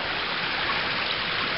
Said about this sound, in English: And this water is sounding pretty enticing right now, I tell you.